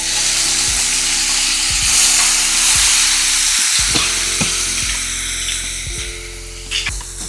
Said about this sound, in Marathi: आता इथे टोमॅटो 3-4 मिनिटं फक्त परतून घ्यायचे.